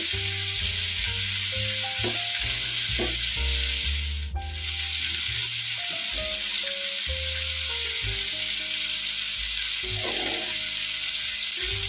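Chicken shashlik frying in hot vegetable oil, a continuous close hissing sizzle under background music, with a couple of faint spatter pops and a brief dip in the sizzle partway through.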